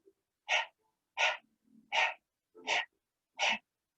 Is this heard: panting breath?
yes